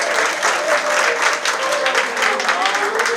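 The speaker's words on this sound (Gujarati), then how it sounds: "આજે તમારા બધામાંથી જેટલા લોકોએ તાળીઓ પાડી છે ને" Guests at a baby shower ceremony clapping, dense sustained applause from a crowd filling the room, close and loud, continuous throughout.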